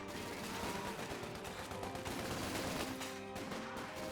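Gunfire in the World War II strategy game Company of Heroes 2, a dense, continuous crackle of rifle and machine-gun bursts over a noisy battlefield mix, fairly faint and steady throughout.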